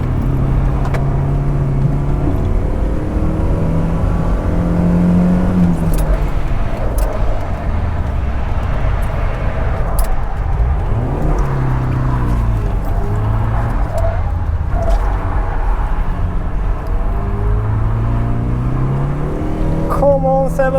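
A Volvo 740 drifting on snow in Sweden is heard from inside the car, its engine droning loudly and rising and falling with each rev and shift throughout, while someone talks over it.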